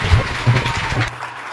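An audience applauding at a gathering, a short burst of loud, close clapping that starts to taper off by the end.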